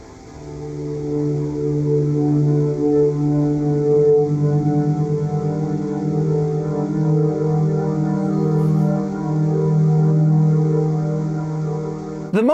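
A low, droning ambient soundscape from a 2025 Volvo EX30's infotainment system (Forest Bath), with sustained dark tones and slow swells, steady and ominous throughout with no voices.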